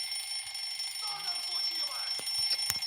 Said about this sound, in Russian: включим будильник